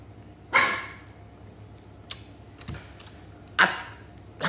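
Dog barking close by indoors, a few sharp separate barks spread across several seconds with short yips between them over a quiet background.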